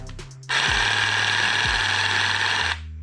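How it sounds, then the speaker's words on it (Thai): A TOTAL TJSLI8501 cordless jigsaw, set to orbital mode 3, whirs loudly at a steady, high-pitched buzz for about two seconds, then cuts off, with a faint hum before and after. "เดี๋ยวไปดูวิธีการทำงานของเลื่อยจิ๊กซอ ตัวนี้กันเลยนะครับ"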